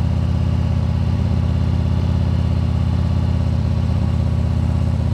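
A Harley-Davidson motorcycle engine runs steadily at low revs during a slow U-turn, a rhythmic putter close by with no voices, holding an even pace throughout.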